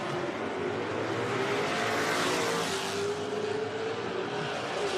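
A Ford Cobra Jet factory stock drag car accelerates hard down a drag strip, its engine a loud, continuous roar with a rising pitch as it pulls through the gears, filling the whole stretch.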